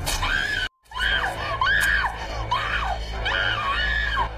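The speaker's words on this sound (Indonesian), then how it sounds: "terdengar teriakan kematian Wendy yang sangat kuat" A woman's loud death scream in a film, repeated in several long, wavering shrieks after a brief silent gap, close and intense.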